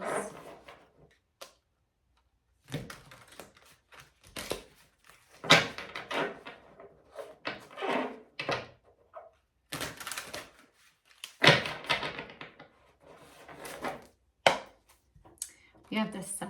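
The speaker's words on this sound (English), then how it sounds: "Let's do a couple more shuffles." Tarot cards being shuffled in quick papery bursts and riffles, separated by short pauses, close up with no voices.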